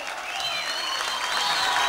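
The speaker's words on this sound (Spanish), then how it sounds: "A ver el aplauso." A hall audience breaks into steady, sustained applause with some crowd murmur, clapping dense and even throughout, cheering for a performer named Isabelita.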